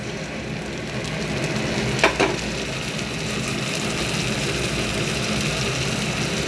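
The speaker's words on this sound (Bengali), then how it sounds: "এবার সর্ষে বাটাটা দিয়ে দিলাম" Mustard paste hits hot oil with onions in a pan and sizzles steadily, a dense close hiss that holds for the whole stretch, broken by a couple of short clatters from the pan early on.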